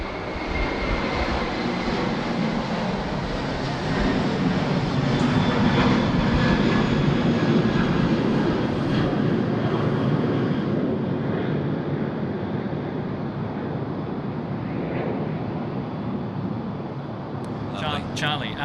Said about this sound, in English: He's about to take off for 5 hours and head off to the west coast of Australia.